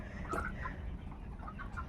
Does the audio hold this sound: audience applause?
no